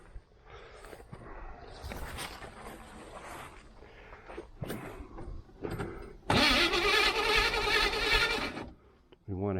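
A 1980 Camaro Z28 engine cranks in several short bursts, then catches and runs loudly for a couple of seconds before cutting out, close up, with someone speaking between the attempts.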